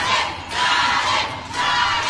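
Supporters of a candidate at a debate for the Iztapalapa mayoralty cheering and shouting as a crowd, a loud swell of voices rising and falling in waves over about two seconds.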